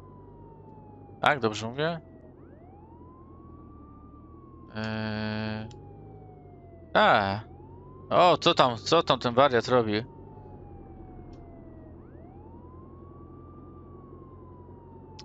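A police siren in the Contraband Police game wails continuously, rising and falling steadily under a man's intermittent speech, with a low engine rumble beneath.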